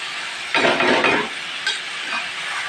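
Spices tipped into a hot pan for a chicken and potato curry give a short, loud burst of sizzling and stirring, then fade to a lighter crackle.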